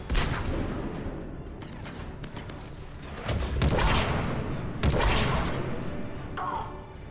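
Explosions and gunfire in the video game Mass Effect 3, a series of loud booming blasts and crashes bursting in rapid succession, with heavier bursts toward the middle and end.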